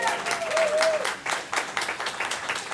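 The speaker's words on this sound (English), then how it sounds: "I think he deserves another great round of applause." Audience applause for a reverend after his talk at a church gathering, a burst of clapping over about three seconds with a faint tonal sweep early on.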